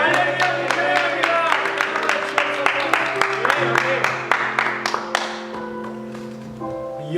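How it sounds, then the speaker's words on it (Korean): A congregation at a youth Sunday worship service claps in a steady scattering of sharp hand strikes over sustained keyboard chords, fairly loud throughout and thinning out toward the end. "우리 함께 하시는 주님 우리 영광의 박수 올려드립시다"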